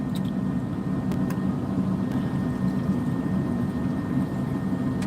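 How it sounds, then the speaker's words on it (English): A truck engine idles steadily with a constant low rumble, close and unchanging throughout, with a few faint clicks above it. "because I'm sitting here with my truck running for an hour."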